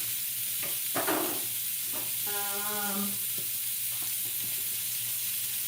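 Burger patty searing in a pan, a steady close sizzle and hiss of fat running throughout, broken by a few utensil taps and a short tonal squeak.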